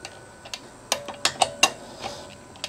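Wheel nuts on an MG ZS EV electric car are worked loose with a wrench, giving a short run of small metallic clicks and ratchet ticks, close and fairly quiet, no talking.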